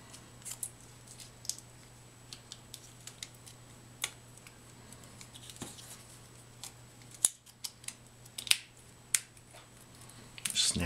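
A field-terminated HDMI connector's plastic clamshell snaps together, heard as a few sharp close clicks and light ticks spread across a quiet background, with some faint handling noise.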